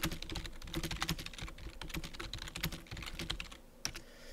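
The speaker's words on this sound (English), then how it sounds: "I cannot type today." Rapid, uneven clatter of computer keyboard keys being typed up close, a dense run of clicks with short pauses and a louder tap near the end, no voices.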